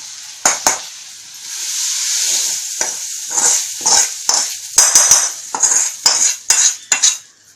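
Roasted onion is scraped and lifted out of a frying pan with a metal spoon, a faint sizzle running beneath a series of sharp clinks and scrapes against the pan, close up and without talking.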